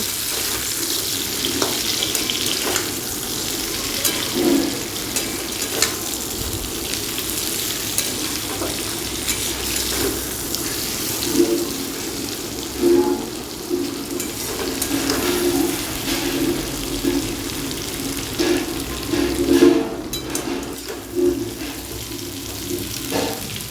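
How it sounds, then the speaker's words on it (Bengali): Spices frying in a pan for a Bengali dish, with steady loud sizzling and hiss throughout, a lid lifted and scattered scraping and clinking as the contents are stirred, no voices. "ঢাকনাটা খুলে দিয়ে এবারে আমি এটাকে একটু নাড়াচাড়া করে নেব"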